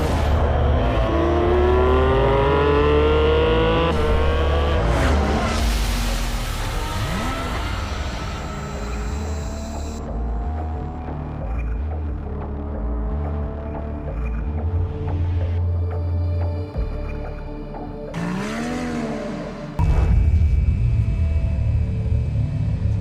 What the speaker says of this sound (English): I really like the exhaust sound, so here's the GT4 Cayman